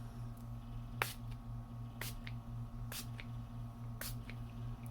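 Fine-mist sprayer pumping Nuvo embellishment mousse, a series of short, soft hissing spritzes at roughly one-second intervals, close and quiet, over a low steady electrical hum.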